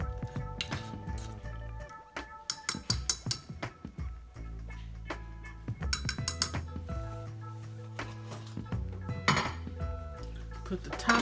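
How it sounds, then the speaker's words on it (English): Stirring a Hawaiian chicken mixture together in a dish ahead of rice-cooker cooking, with scattered clinks and scrapes of a utensil against cookware, fairly close, amid clattering kitchen noise and intermittent voice. "Now I'm gonna just stir that together real quick"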